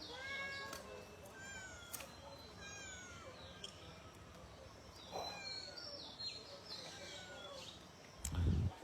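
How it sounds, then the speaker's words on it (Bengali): A cat meows several times, thin and fairly faint, during fish cutting at home, while birds chirp in the background and a low thump lands near the end. "বিড়াল চলে আসছে,"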